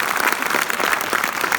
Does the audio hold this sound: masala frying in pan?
no